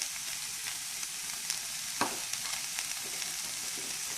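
A pot of cauliflower and red lentil soup with a spoonful of turmeric is stirred, a soft continuous simmering hiss with faint light scrapes and one small knock, fairly quiet and without talk.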